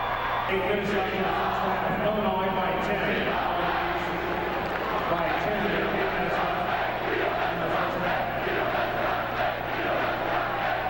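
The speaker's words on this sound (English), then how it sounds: "True Blue Trevian crew in fine voice tonight." A big crowd at a New Trier versus Highland Park high school basketball game in Peoria cheers and chants steadily and loudly, a dense, continuous roar holding throughout with a low constant hum beneath.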